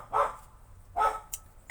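A dog barks twice, spaced nearly a second apart, fairly close and moderately loud, in an otherwise quiet room indoors.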